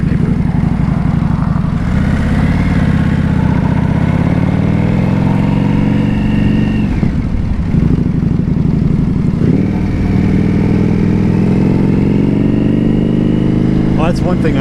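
A 2025 Indian Scout Bobber motorcycle is ridden through a neighborhood, its engine droning loudly and continuously with shifting pitch as it changes speed, wind and road rumble mixed in, with a rider talking over it.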